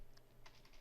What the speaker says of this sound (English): press dot key on your keyboard